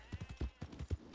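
Horse hooves clip-clop at a steady trotting rhythm in the Red Dead video game, faint and even, with no talk over them.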